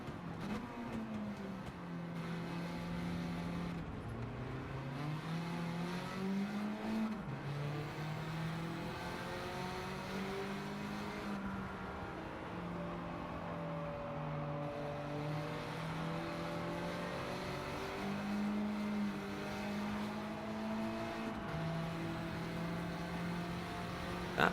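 A car revs in a racing video game, its engine tone rising and falling through gear changes in a continuous, fairly quiet drone with no talking.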